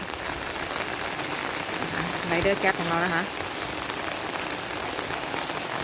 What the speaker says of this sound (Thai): ตอนนี้ก็ฝนตกหนักเลยนะคะ